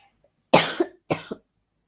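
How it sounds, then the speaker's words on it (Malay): Two short, sharp coughs sound close by in a row, each with a quick follow-up catch, with quiet before and after. "Sorry, terbatuk pula."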